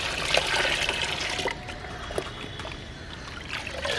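Water is poured and sloshed into a 1.5-litre homemade liquid plant feed to thin it to a buttermilk-like consistency, a close, continuous splashing that eases off halfway through.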